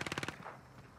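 Rapid burst of about five close, loud shots from a PPSh submachine gun in the shooter game Warzone on Rebirth Island, followed by a fading tail of echo and low rumble.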